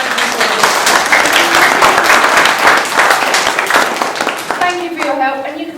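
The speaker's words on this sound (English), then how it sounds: "Give yourselves a round of applause." Loud, close audience applause after a children's Bible story session, a dense clatter of many hands that runs for several seconds before a voice starts speaking over the fading claps.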